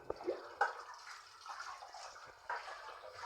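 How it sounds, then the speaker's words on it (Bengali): Plates and bowls being washed with water, with soft splashes and a few sharp clinks and drips, quiet and close, no talk. "এখন কাপড়ি প্লেট বাটি যা হয়েছে ওগুলো ধুয়ে নিচ্ছি।"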